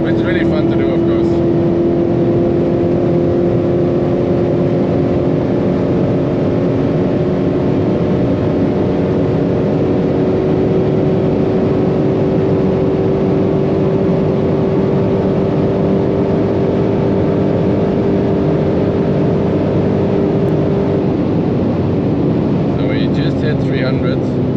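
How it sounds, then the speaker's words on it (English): A 751-horsepower Dodge Charger Hellcat being driven fast, heard from inside as a loud, unbroken engine drone with a steady rising tone and broadband roar throughout. "now you hear the entire car shaking."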